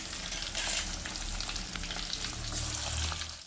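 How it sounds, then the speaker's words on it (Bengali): Potatoes for biryani frying in oil, a steady, dense sizzle with faint crackling and stirring that holds close and loud throughout with no talk. "এই যে এইখানে বিরিয়ানির আলু ভাজা হচ্ছে"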